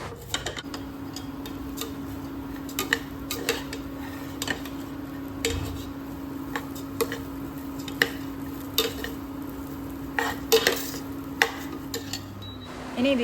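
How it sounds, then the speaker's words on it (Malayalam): Rice roasts in a pan with water about to be added. Grains tick and rattle against the metal in scattered, irregular clicks, close up and fairly quiet, over a low steady hum from the stove. "റോസ്റ്റ് ചെയ്തെടുക്കുമ്പോൾ നമുക്ക് ആ ഒരു പാത്രത്തിൽ തട്ടുന്ന ആ ഒരു അരി തട്ടുന്ന ഒരു സൗണ്ട് കേൾക്കാം"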